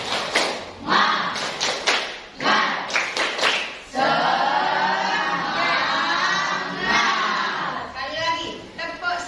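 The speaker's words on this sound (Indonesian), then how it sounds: "Tepuk semangat." Children clap in a rhythmic spirit-clap routine led by a classroom teacher, loud sharp claps in quick patterned bursts followed by a stretch of excited group voices and cheering.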